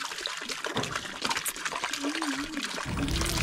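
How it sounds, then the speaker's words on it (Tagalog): Water splashes and trickles as it is poured into containers at a mountain campsite on Mt. Pulag's Akiki Trail, with people talking and a dog audible nearby. "At nilalagyan na rin namin yung ibang mga lalagyan na namin ng tubig"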